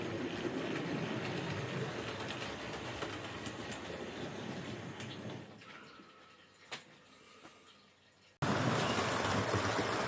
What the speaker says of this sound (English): the train you can see going around at the moment is a BR Standard Class 4 locomotive